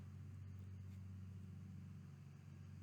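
A truck rolls past slowly, a low steady rumble of engine noise that holds level throughout and sounds fairly distant and quiet, with no voices.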